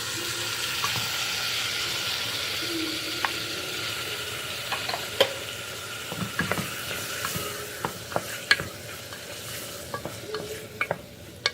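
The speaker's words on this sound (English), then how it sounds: "now I'm going to add the tomatoes" Tomatoes sizzle and fry in a hot pan with turmeric while a spoon stirs and scrapes, with scattered clicks and knocks of utensils over a steady close sizzle throughout.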